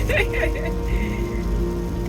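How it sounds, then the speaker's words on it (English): Heavy rain pours steadily outside a house in a dense, constant hiss. A voice speaks over it near the start. "It's been raining heavily that I couldn't even step out of my house."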